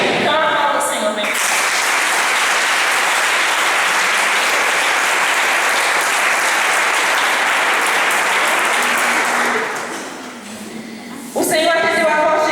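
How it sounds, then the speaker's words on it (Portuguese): Sustained congregational applause fills a church service, a loud, dense wash of clapping from a large crowd that runs steadily for about nine seconds, then thins briefly before swelling again at the end. "Então aplauda o Senhor"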